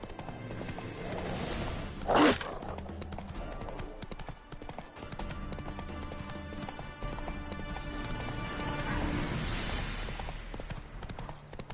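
Horse hooves clip-clopping in The Witcher 3 video game, a continuous galloping patter under battle ambience, with a brief loud burst near the start and a whinny-like cry.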